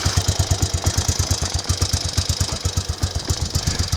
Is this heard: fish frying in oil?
no